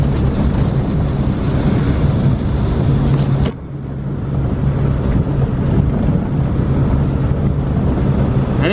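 A 1941 Pontiac JA Deluxe Torpedo Silver Streak cruises in third gear along a very bumpy country road, a loud continuous engine and road rumble mixed with wind buffeting, with one brief dip midway.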